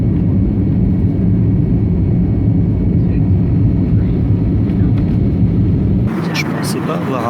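Steady low roar of airliner cabin noise in flight on a passenger plane headed to Port Blair, loud and unbroken, before an abrupt shift to quieter cabin sound near the end.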